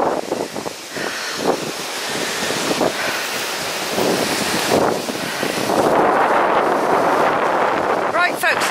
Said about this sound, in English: it's actually very blowy. Very blowy indeed.